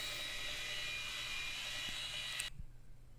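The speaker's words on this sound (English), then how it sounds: "I do some of the shaping on a 2x72 grinder." A 2x72 belt grinder shapes hybridwood composite knife scales with a loud, steady whirring whine that cuts out abruptly near the end, leaving a quieter hum.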